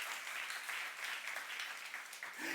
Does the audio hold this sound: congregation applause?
yes